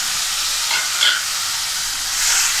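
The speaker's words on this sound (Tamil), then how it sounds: "தக்காளி பழம் நல்லா கொழகுளம் ஆகிற வரைக்கும் நல்லா கிளறி விடுங்க" Chopped tomatoes fry in a pan with a steady close sizzle and hiss, with a couple of soft stirring scrapes and no talk.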